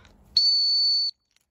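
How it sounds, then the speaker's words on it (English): A dog training whistle, used with Dalmatian puppies, gives one long, shrill, steady blast of under a second, loud and close, followed by silence. "if I just do like a long short or a long blast on the whistle"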